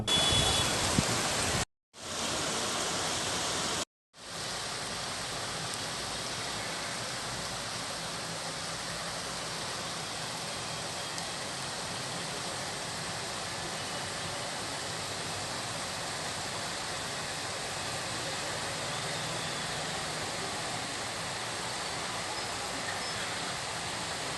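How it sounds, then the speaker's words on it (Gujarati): Heavy afternoon rain pours over city streets in Bhavnagar, a dense, steady broadband wash of falling water that stays constant throughout, broken only by two brief cuts near the start. "બપોર બાદ શહેરમાં ધોધમાર વરસાદ પડતા રસ્તાઓ ઉપર પાણી ફરી વળ્યા હતા"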